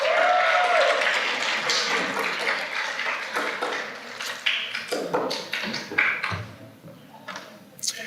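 Audience applause at a fifth grade school awards ceremony, a broad wash of clapping that is loud at first and gradually thins, with scattered louder claps toward the end.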